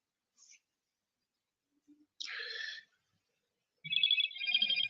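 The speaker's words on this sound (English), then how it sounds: "I just saw an alert on my phone." A phone alert tone chimes in two short bright bursts, the second a quick double ring, clear and close in an otherwise quiet room.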